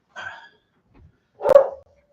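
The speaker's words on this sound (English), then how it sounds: "she's got to go out and bark at everything" A dog lets out a short whiny yip, then after a pause a single loud, close bark, with silence around both sounds.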